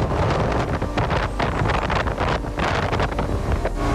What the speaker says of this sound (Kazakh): Сәл жел бар екен